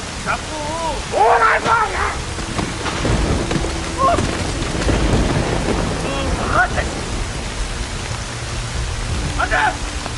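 Heavy rain pours continuously through a thunderstorm as deep thunder rumbles roll underneath, with a voice speaking intermittently over the storm.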